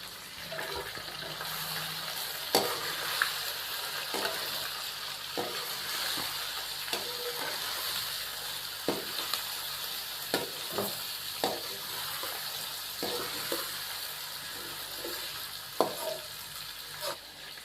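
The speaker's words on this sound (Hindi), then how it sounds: "तो यहाँ पे चिकन की हम 3 से 4 मिनट के लिए भुनाई कर लेंगे।" Chicken being fried in a pot with green cardamom, cumin, cloves and cinnamon sticks, giving a steady low sizzle broken by repeated scraping and stirring knocks. It is moderately quiet and there is no talking.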